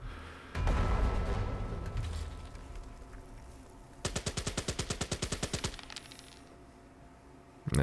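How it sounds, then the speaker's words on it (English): Enemy fire resolved in the Valor & Victory tabletop-style wargame on PC, heard as a dense burst of rapid staccato machine-gun shots in a steady rhythm for about two seconds, preceded by a louder rumbling blast. "so now they'll be able to shoot at us"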